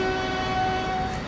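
A diesel locomotive horn from Transport Fever 2 holds a steady two-tone blast for over a second, loud and sustained over a low rail rumble, with no pause or break.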